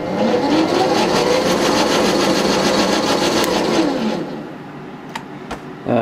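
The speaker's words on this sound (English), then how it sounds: "the brake does stop it a fair bit quicker" A Sieg C6 lathe converted to a DC motor whines and winds down under its brake, its pitched hum sliding lower until it stops after about four seconds, followed by a couple of sharp clicks in near quiet.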